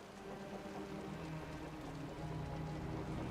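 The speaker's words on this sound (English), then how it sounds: "The rain's getting heavier." Steady rain falls throughout in the video game Wuthering Waves, a soft, even hiss of drops with low rumbling underneath and no voices.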